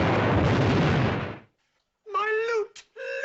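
A loud, sustained film-effect explosion of a safe being blown up, a dense broadband roar that holds for about a second and a half before cutting off to silence, followed by a person speaking.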